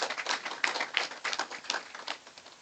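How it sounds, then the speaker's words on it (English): A small group applauds at a business month calendar launch event, scattered, fairly faint claps going in uneven bursts for a few seconds. "Let's give them a round of applause."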